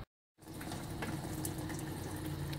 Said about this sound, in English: Fluid draining into the bucket.